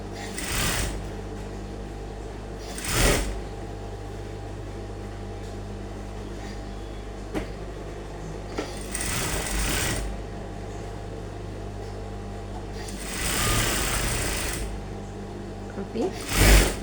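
A sewing machine stitches the side seam of a smocked crop top in several loud, short bursts separated by quieter gaps, with steady motor hum underneath.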